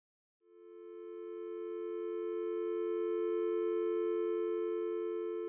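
A smooth synthesized major third on E, two close pitches, fades in and sustains steadily, clean and electronic, with no other sounds.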